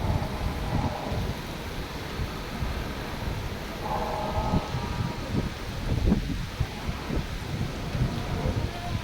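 Heavy monsoon rain pours steadily with low rumbles of thunder rolling through, loud and continuous, with gusts of wind mixed in.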